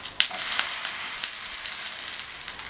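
A rice flour dosa sizzles on a pan over a medium flame after being flipped, a steady soft hiss with a few small crackles and pops and no talking.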